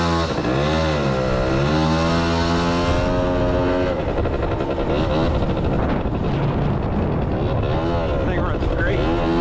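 A small vintage Suzuki LT80 quad engine runs and revs close by, its buzzy pitch rising and falling with throttle changes, loud and continuous, with speech heard over it.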